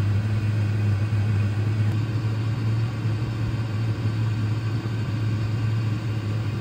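A diesel heater burning unfiltered 100% waste oil runs with its fan going, a steady close low hum and rumble with a strong tonal drone, unchanging throughout with no voices.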